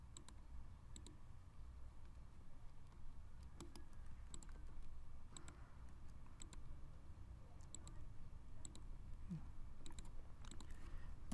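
Computer keyboard typing as a command is entered in AutoCAD: sparse, quiet, irregular key clicks over a low steady hum.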